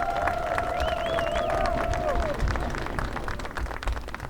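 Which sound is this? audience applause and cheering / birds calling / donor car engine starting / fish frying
audience applause and cheering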